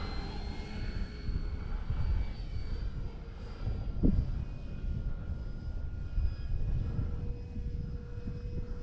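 A small RC STOL model airplane engine drones steadily at a distance, a thin high whine holding over low wind rumble, with a brief sharper burst midway.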